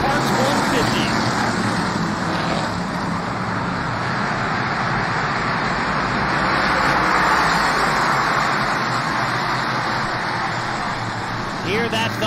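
Race cars thunder down the back straightaway at Lancaster Motorplex during a 150-lap auto parts race before a packed grandstand, a loud, continuous, dense engine roar that swells slightly midway and stays strong to the end.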